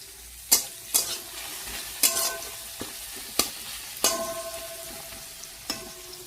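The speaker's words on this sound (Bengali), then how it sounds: "এখানে কাতল মাছের ঝোলের জন্য বসিয়েছি, আর এখানে মাছের চচ্চড়ি হবে।" Katla and tangra fish curries cooking in pans, with a loud scrape of stirring about every second over a steady low sizzle of frying, clinking metal utensil hits now and then, nobody speaking.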